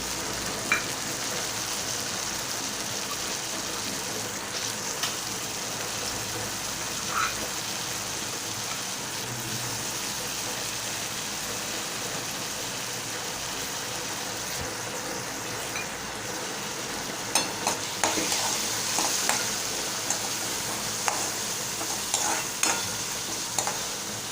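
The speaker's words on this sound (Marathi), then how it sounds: "आता कांदा थोडा नरम झालेला आहे छानपैकी आता मी मुगाची डाळ घालत आहे" Moong dal tipped into softened onions frying in oil and stirred for shepu bhaji, a steady close sizzle with scraping stir strokes that grow busier near the end, no talk.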